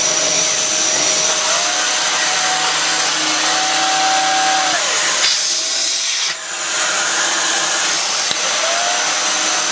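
A vacuum cleaner with a turbo brush runs on thick carpet, giving a loud, steady hissing roar with shifting whine tones as the brush struggles and the pitch changes.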